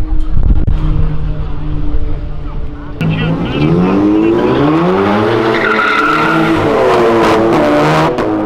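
A Dodge Ram pickup truck slides sideways with a loud tire squeal and skid, the engine revving and rising in pitch as it nearly crashes, and voices shouting under the noise.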